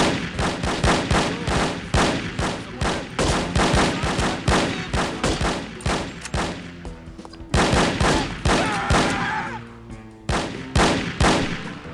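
Rapid, loud gunfire from No One Lives Forever repeats in steady volleys of sharp shots, pausing briefly midway before resuming, with no talk over it.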